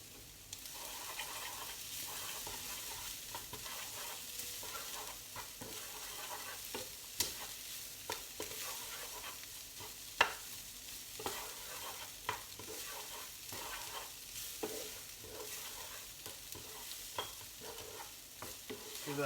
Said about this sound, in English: Give that a good mix around.